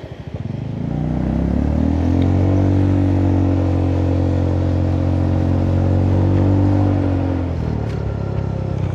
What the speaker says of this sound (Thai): ผมก็เร่งเครื่องหน่อยแล้วกัน